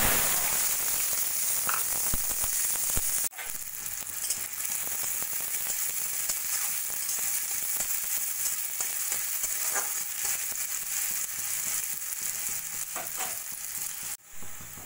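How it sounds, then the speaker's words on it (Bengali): Finely chopped medium onion frying in hot oil in a wok, giving a steady, loud, close sizzle throughout with brief stirring clatter and short breaks. "দিয়ে দেবো একটা মিডিয়াম সাইজের পেঁয়াজ ছোট ছোট করে"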